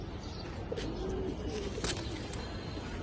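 Afsan bagha silver pigeons coo softly and repeatedly in a low, rolling murmur near by, with a few brief chirps and a constant steady background hum.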